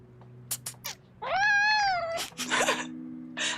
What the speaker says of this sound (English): I don't know if you heard him, but he meowed.